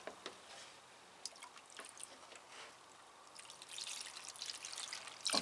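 Water is poured onto potted plants at the soil rather than the leaves, making faint scattered drips and small splashes that build into a soft, steadier trickle toward the end.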